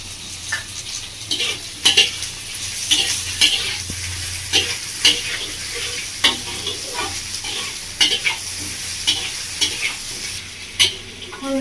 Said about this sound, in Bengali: আমরা পেঁয়াজ আর বেগুন খুব ভালো করে ভেজে নিয়েছি।